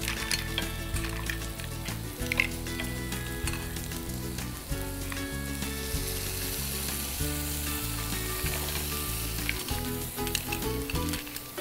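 Shrimp and mussels sizzle steadily on a hot grill during a seafood cooking demonstration, a continuous close frying hiss with light stirring, heard alone under a low steady musical backdrop.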